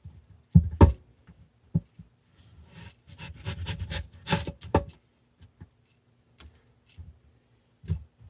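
A pumpkin is peeled by hand, giving sparse scraping and knocking clicks in short irregular bursts, close and fairly quiet with gaps of silence between strokes.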